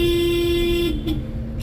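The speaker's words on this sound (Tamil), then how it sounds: "ஹார்ன் அடிக்கணும்." A steady car horn blares close by for about a second, then cuts off over a constant low rumble of engine and traffic.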